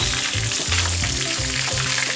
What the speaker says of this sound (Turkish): Pirincimizi de kavuruyoruz.